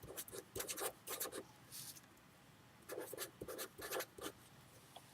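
Pen writing numbers down on paper while working a statistics problem, producing several short bursts of scratchy strokes with brief pauses between them, close and fairly quiet, with no talking.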